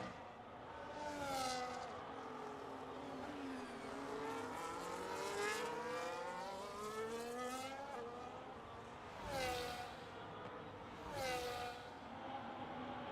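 A Mercedes race car's engine screams through repeated upshifts and rising revs on a lap of Suzuka in a sim racing game, with a steady loud drone and sharp pitch sweeps, no voices.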